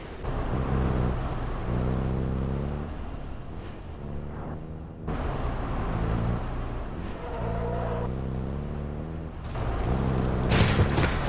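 An armored vehicle engine in Call of Duty revs and drones loudly, rising and falling in pitch across several surges, with a short break and a burst of noisy impacts near the end.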